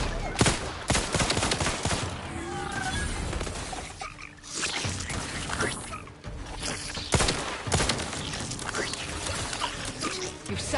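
Stun weapon fire in the video game Outer Worlds 2, a dense, loud barrage of sharp bursts and crackling shots that continues throughout, with brief lulls before the volley resumes.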